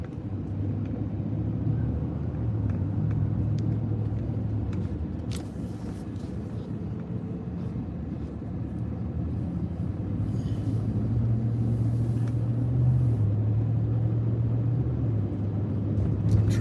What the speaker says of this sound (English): Look at this, just cars and cars.